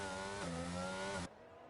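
A race car engine at the Monaco circuit over-revs with a sustained high, harmonic whine that rises in pitch and then cuts off abruptly, loud and close.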